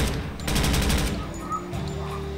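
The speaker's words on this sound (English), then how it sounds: "we have someone shooting from this position" Enemy gunfire in the tactical game Door Kickers 2, a rapid automatic burst of rattling shots, loud and close, with a shorter follow-up burst.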